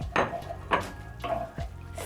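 A spoon stirs boiled goat meat in a pot for a Kenyan wet fry, making about four distinct scraping strokes against the metal, close and fairly quiet, with soft clatter in between.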